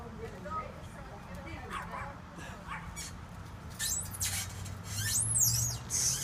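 A dog goes wild at a starling trapped in a trampoline, yapping and whimpering in excited bursts that grow louder toward the end, with people talking nearby.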